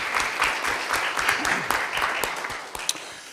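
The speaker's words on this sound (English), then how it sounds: "let's give him a round of applause." An audience at a school board of education meeting gives a round of applause, steady dense clapping with a few sharper claps standing out near the end.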